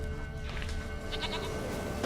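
A goat in The Witcher 3 bleats near and clear over the game's ambient background, a short wavering call.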